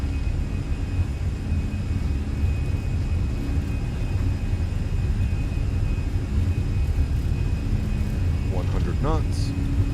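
Airbus A320 on its takeoff roll at takeoff power in Microsoft Flight Simulator, a loud steady engine roar and rumble throughout, with a few brief chirping tones near the end.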